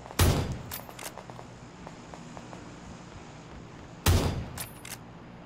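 Tommy gun shots in PUBG on Xbox One, two short bursts of sharp automatic fire about four seconds apart, each followed by quieter trailing shots over faint background ambience.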